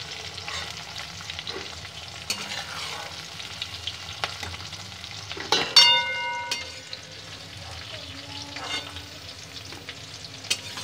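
Paneer and capsicum fry in mustard oil until reddened, a quiet continuous sizzle with intermittent stirring scrapes and a few sharp metallic clinks, one ringing briefly midway.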